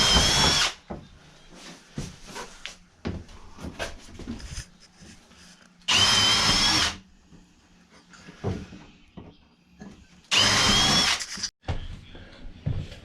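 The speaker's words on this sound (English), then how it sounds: "Mason's just pre-drilling holes here." A power drill pre-drilling holes in boards during a shuttle bus conversion, running in three loud sustained bursts of about a second each, with quieter handling clatter between them.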